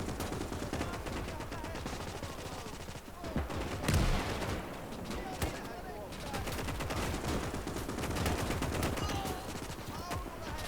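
Dense battlefield gunfire in the Gates of Hell real-time strategy game, with continuous machine-gun bursts, rifle shots and a heavier cannon blast around the middle, loud and unbroken throughout.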